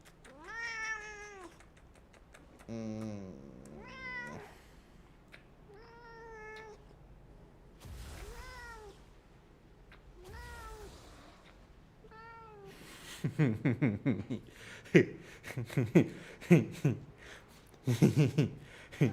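A pet cat meows repeatedly indoors, a series of clear, close, rising-and-falling calls spaced through the first half, followed by louder clattering, rustling sounds.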